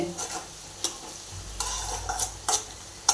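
Onions sauté in a pan for a Gujarati chavana vegetable dish, with a close, even sizzle and several distinct spoon taps and scrapes against the pan as they are stirred, with no talking.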